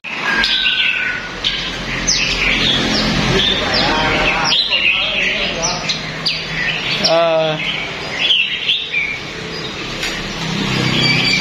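Red-whiskered bulbuls and magpie robins sing and chirp in varied, melodious phrases, close by in a bird shop, with a steady background hum and some faint voices underneath.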